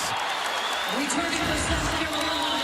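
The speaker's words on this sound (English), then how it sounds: "applauding the defense" Crowd applause rises in a broad wash of noise at an arena during the 2024 NCAA women's basketball national championship, South Carolina vs. Iowa, with a commentator's voice talking over it.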